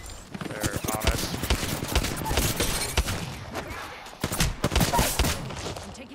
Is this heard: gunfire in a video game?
yes